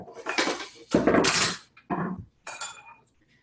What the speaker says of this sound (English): switch to our wooden cutting board, which I have all my measuring spoons on top of